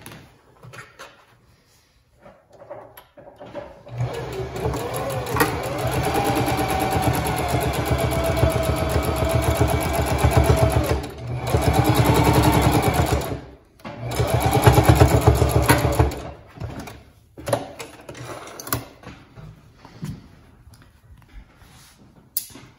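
A sewing machine stitches along the spine of a handmade notebook in two long runs with a short pause between, a close steady mechanical whir over a low hum, with quiet handling before and after.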